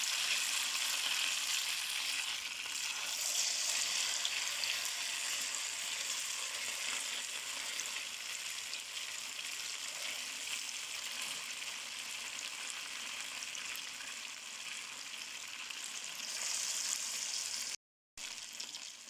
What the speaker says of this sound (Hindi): अब हम इसमें 1 बाय 1 सारे कबाब डाल देंगे